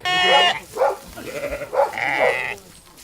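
Farm livestock, including sheep and goats, bleat several times in a row on a rural farm, loud and close with wavering cries and short gaps between them.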